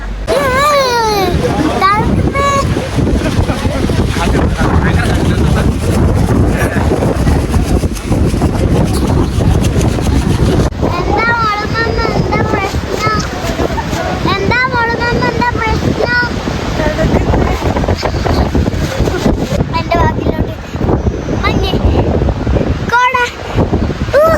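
Strong wind roars and buffets the microphone nonstop on Doddabetta Peak near Ooty, while people, including a child, talk loudly over it.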